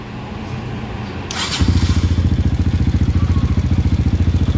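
A Kawasaki KLX 150 motorcycle engine starts up and settles into a loud, close, rhythmic idle with a steady thumping pulse, preceded by brief clatter and background noise.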